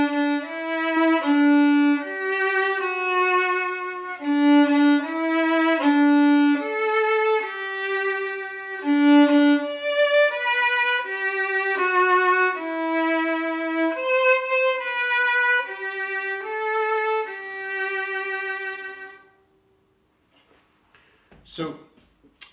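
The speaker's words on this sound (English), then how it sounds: "this is what Happy Birthday sounds like when the violin has been properly tuned" Properly tuned violin plays Happy Birthday, clear bowed notes following the familiar tune, solo and close, ending in a sustained note followed by a brief clunk and quiet handling noise.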